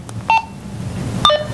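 Short electronic beeps and chirps in quick pairs from a Motorola RDX Series two-way radio, a couple of tonal bleeps spaced apart over a low hiss, clear and close.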